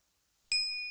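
A single bright notification bell ding, struck sharply and left ringing with a clean sustained tone after near silence.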